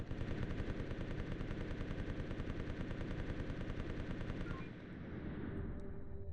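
Rapid, steady bursts of ship weapon fire rattle on for several seconds in Space Station 14, a dense mechanical stream of shots that cuts off abruptly, leaving a softer hum.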